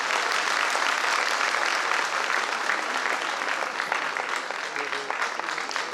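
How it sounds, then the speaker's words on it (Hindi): Loud, sustained applause from an audience greeting the head of department as he takes the stage at a product launch event, dense clapping filling the whole stretch with no pause. "एक बार जोरदार तालियों के साथ"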